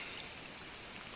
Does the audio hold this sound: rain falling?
yes